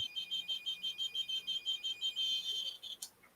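A ghost detector device gives a rapid series of high, chirpy electronic beeps that pulse steadily for about three seconds, then cut off with a sharp click.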